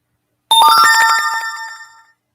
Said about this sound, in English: This phone sounds like a casino game.